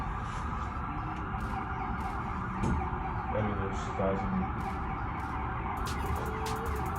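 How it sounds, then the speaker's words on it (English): Ambulance sirens wail and yelp on a city street in Manhattan near Park Avenue, steady and moderately distant under traffic noise, while someone speaks briefly. "There's 1, 2, 3, 4, 5, 6 ambulances."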